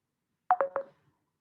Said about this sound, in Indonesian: Ini ada telepon masuk